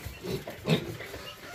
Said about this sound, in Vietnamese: Đôi lợn cực đẹp